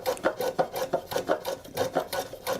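A hand tool rasps repeatedly across the corner of a wooden post to chamfer it for a joint, with steady back-and-forth scraping strokes, close and fairly loud, about four strokes per second with no talking.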